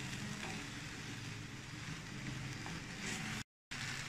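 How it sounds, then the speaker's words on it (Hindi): Steady, soft sizzling of carrots and peas frying in a pan, with a continuous hiss and a brief gap of silence near the end. "अब इसको खुला करके थोड़ा भून लूँगी"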